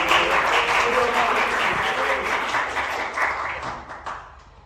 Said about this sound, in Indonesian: Berarti tepuk tangan lagi dong buat.